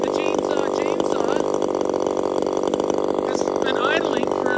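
Small top handle chainsaw idling after a long run of cutting, a steady buzzing two-stroke drone that holds throughout, close and loud, with someone talking over it.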